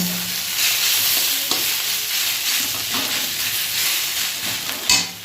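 Snake gourd and onion frying in a wok give a steady, close sizzle, with scattered scrapes and clinks of stirring through it and a louder scrape near the end.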